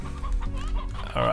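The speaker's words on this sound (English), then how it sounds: "Chicken, oh man, our chicken coop is getting so packed." Chickens cluck in a crowded coop in the Slime Rancher video game, a few close, bright cluck calls over a humming game background.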